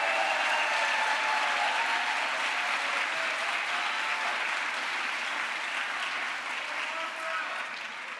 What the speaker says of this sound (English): Can we give Barbara a big round of applause?